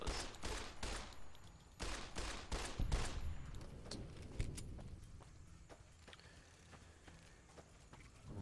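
Gunfire in the video game Fallout: New Vegas, a burst of rapid shots followed by scattered single cracks and clattering, fairly loud with game ambience underneath.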